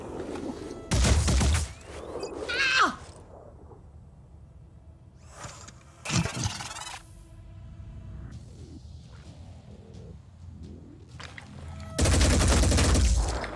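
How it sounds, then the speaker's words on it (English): Video game combat with bursts of enemy gunfire, loud fusillades at the start, middle and end, with whooshes and low rumble in between and no voices. "Why can't they be this inaccurate when shooting at us?"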